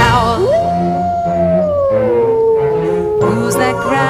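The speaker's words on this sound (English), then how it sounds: "Through the stalks we hear a howl." A long, wavering howl carried over a low musical accompaniment in a corn maze setting, one sustained tone sliding slowly downward before fading into the music.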